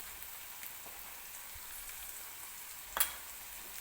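Turmeric dropped into a hot pan while cooking upma, a faint, even sizzle with a soft crackle, a single sharp tap near the end.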